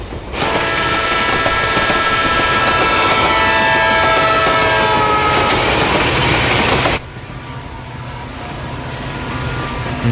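A train rumbles past loudly and steadily for about seven seconds with rhythmic rail clatter and a high whistle-like tone, then cuts off abruptly into a quieter, hollow ambience as if entering a tunnel.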